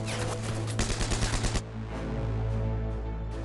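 A rapid burst of machine gun fire rattles off in quick, evenly spaced shots, then cuts out into a lingering low rumble.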